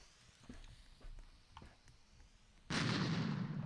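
An RPG rocket launcher in a Roblox dungeon obby game: several soft thuds and pops, then a sudden loud, sustained explosive roar that continues to the end.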